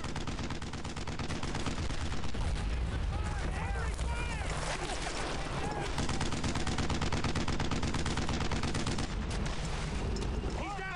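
Gunfire in the World War II shooter game Brothers in Arms: Earned in Blood, continuous rattling bursts and dense shots throughout, loud and close, with a voice talking over it.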